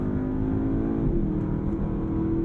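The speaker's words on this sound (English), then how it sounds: "that twin turbo V8 now in Sport Plus. It's a sweet melody" Porsche Panamera GTS twin-turbo V8 in Sport Plus mode heard from inside the cabin, a steady, deep engine drone with a slight rise in revs, continuous and fairly close.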